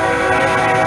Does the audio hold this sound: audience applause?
no